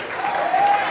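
Church of Christ congregation claps in a dense, loud burst of hand clapping, with a faint voice underneath.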